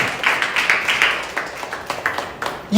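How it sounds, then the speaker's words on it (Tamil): A congregation at a Tamil church sermon claps rhythmically and briskly at first, then the claps thin out and become softer and more scattered toward the end. "நல்லா உறக்க கைத்தட்டுங்க"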